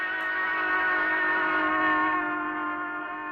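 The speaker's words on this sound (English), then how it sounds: "steam whistle sounds higher when it is approaching and lower when it's receding" A steam train whistle sounds as one sustained, rich, multi-toned blast, loud and steady, then eases slightly toward the end as the train passes.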